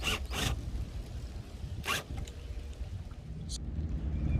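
Electrical tape is pulled off the roll and wrapped around wiring for load resistors installed with T-tap connectors on a Chevy Cruze, making a few sharp, raspy tearing strips with quieter handling in between.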